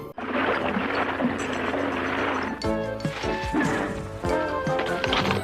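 A car smashing into a guard post, a loud sustained crash of breaking wood and debris followed by repeated heavy whacks and clattering impacts, close and dense.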